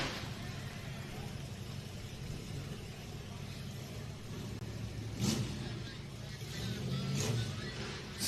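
A UTV engine revs and roars on a Windrock hill climb race course, a continuous mid-distance drone that swells in two louder surges toward the end, with an announcer's voice in the background.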